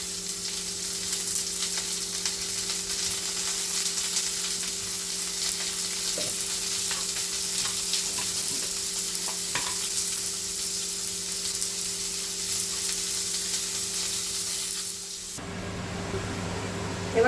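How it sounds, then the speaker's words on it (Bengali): Potato and pointed gourd pieces frying in oil with salt and turmeric, a loud continuous sizzle with scattered stirring clicks close by, cut off near the end by quieter noise; nobody speaks. "প্রথমে আমি আলু পটলগুলো ভেজে নেবো এরগুলোকে আমি লবণ হলুদ দিয়ে একটু ভেজে নিই"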